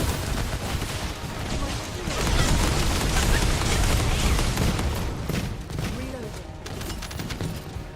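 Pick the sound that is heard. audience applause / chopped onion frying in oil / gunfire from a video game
gunfire from a video game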